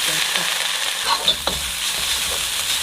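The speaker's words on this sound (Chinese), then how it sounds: "然后处理这个梅干菜就可以了，加点葱把它给炒一下" Pickled mustard greens stir-fried with scallions in a wok, giving a steady close sizzle and crackle with a few scraping stir strokes and clinks, and no talking.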